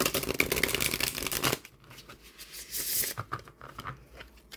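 A Llewellyn tarot deck of vampire-themed cards is shuffled close up, a brisk burst of riffling card noise followed by quieter handling and shorter shuffling sounds.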